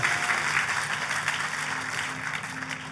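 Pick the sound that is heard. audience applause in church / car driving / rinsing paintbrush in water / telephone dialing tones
audience applause in church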